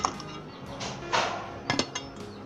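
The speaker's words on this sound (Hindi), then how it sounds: "सबसे पहले आप ब्लेंडर के अंदर बर्फ़ डाल दें।" Hard clinks and clatters of ice cubes dropped into a blender, several bursts in quick succession, close and fairly loud with no talking.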